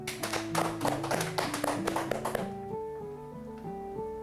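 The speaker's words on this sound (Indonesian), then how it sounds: "sambut bersama narasumber kita Bapak Wahyudi dengan tepuk tangan yang meriah." An audience at a talk on liturgical music gives a quick round of clapping to welcome the speaker. The clapping fades after a couple of seconds while sustained keyboard or organ tones carry on underneath.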